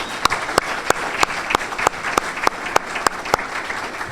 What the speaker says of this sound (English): would you please stand up so we can give you another round of applause?